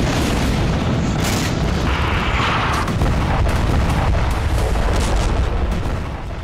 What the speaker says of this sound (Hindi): हेलीकॉप्टर से लगातार फायरिंग की जा रही है।